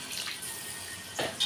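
Small splash of water added to rice in a pan for a baked mackerel tray dish, a soft watery pour around the middle and another brief burst near the end, quiet and close.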